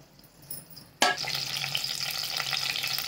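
Bay leaf, green chillies and whole spices drop into hot oil with a sudden loud burst, then sizzle and crackle steadily, close and alone without voices.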